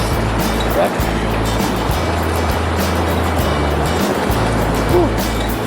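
Creek water rushing steadily at the Rabbit Creek crossing in Great Smoky Mountains National Park, a dense continuous loud wash with low rumbling underneath and no breaks.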